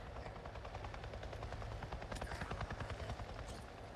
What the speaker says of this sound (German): Werde ich gerade von einem Hubschrauber verfolgt?